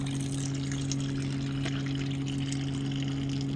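Water pours steadily from the diesel tank hose of a truck that will not start, a continuous near splashing stream over a constant low mechanical hum, with no voices.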